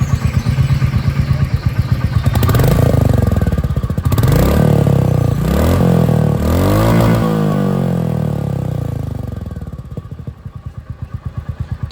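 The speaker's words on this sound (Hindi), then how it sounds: "तो ये था दोस्तों एग्जॉस्ट साउंड।" A 2025 Royal Enfield Meteor 350 single-cylinder motorcycle with slipper clutch rumbles close by, idling with a steady thump before several revs rise and fall, then settling back to a loud, even idle.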